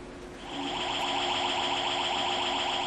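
An engine room alarm aboard a ship, a steady electronic tone with a pulsing edge that rises in after half a second and holds constant over machinery hum.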